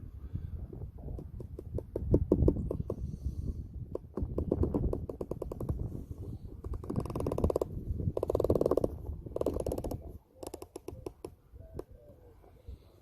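Elevation turret of a Discovery ED-LHT 3-15x50 rifle scope being dialed, a long run of small rapid mechanical clicks close up, with brief pauses and faint rustling between turns.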